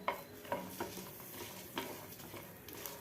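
Curry leaves, ginger and garlic stirred in a pan for chutney powder, a series of soft, quiet scraping and tapping strokes at an uneven pace over a low sizzle, close by with no voices.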